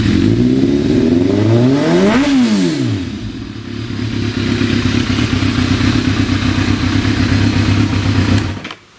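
A 22-year-old motorcycle with 29,000 miles on it starts up close by, revving up and back down in a sweeping rise and fall, then settles into a loud, steady idle that cuts off at the end.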